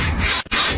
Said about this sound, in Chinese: 下摆臂胶套异响